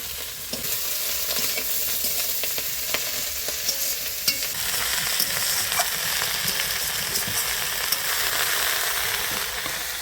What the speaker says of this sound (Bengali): চিংড়ি মাছ, পেঁয়াজ, কাঁচা লঙ্কা ভালো করে ভাজা হয়ে গেছে